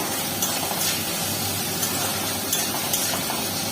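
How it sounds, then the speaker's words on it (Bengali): Ridge gourd sautéing in a pan with spices gives a steady, close sizzle and hiss, broken by faint scrapes of stirring, with no voices. "সবজিটা একটু ভালো মতো কষিয়ে নেবো"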